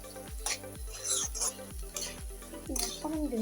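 Mustard paste fries in a pan for a Maricha Shakor Chorchori vegetable dish, with soft sizzling under repeated scraping stirs of a spatula in a steady rhythm.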